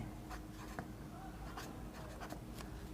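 Soft pen or pencil scratching on paper as trigonometry formulas are written by hand, faint short strokes over a steady background hiss, with no talking.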